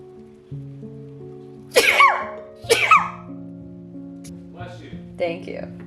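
Two sharp sneezes from a person, close and loud, burst out about a second apart over a steady musical background, followed by faint quieter sounds.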